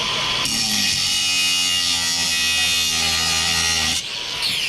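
An angle grinder with a diamond wheel whines loudly as it cuts, a steady high-pitched buzz that starts abruptly, holds a sustained tone for several seconds, then cuts off and drops.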